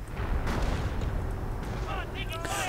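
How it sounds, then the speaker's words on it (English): StuG 42 assault gun and mortar fire in a real-time strategy game battle: a dense, rumbling barrage of booming blasts and crackling gunfire, with a commentator talking over the din. "getting blasted by the Stu 42, which also continues blasting away without remorse"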